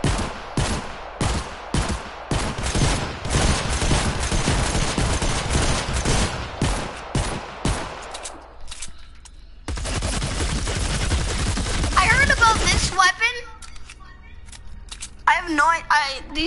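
Rapid gunfire from a zombie shooter video game crackles loudly in dense bursts, then drops away for a moment and starts again as continuous fire, with a voice coming in toward the end.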